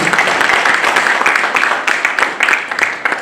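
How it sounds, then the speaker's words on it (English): Loud, close audience applause greets a speaker coming up at a forum on farmer and food processor collaboration, dense clapping with distinct individual claps standing out throughout. "Let's give her a hand as she comes through."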